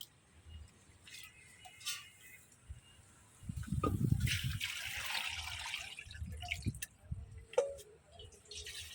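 Water is poured into a pot of taro corms for boiling, a splashing, trickling stream lasting several seconds, close by, with a few faint clinks around it.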